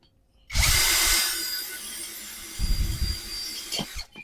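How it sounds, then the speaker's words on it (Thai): A JIAPU SS-168-100 16.8V brushless cordless drill whines loudly as it bites into steel, steady and close, with a second surge of grinding partway through before it stops. "เดี๋ยวลองมาเจาะเหล็กกันครับ"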